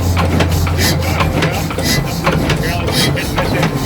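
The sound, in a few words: engine exhaust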